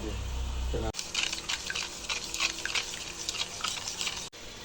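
Ground cumin, chili, turmeric and salt are mixed with water, giving wet, clicking stirring sounds close up for several seconds after a brief opening voice.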